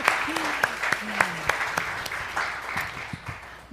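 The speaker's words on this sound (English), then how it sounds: "Now we can clap." An audience claps at a church service, sparse and fairly distant, with scattered louder claps over a murmur of voices and room noise.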